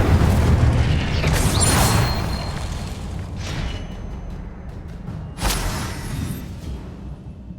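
An Incendio fire spell cast in the Hogwarts Legacy video game: a loud, booming burst of flame at the start, a quieter rumbling stretch, then a second sharp burst partway through, with no talking.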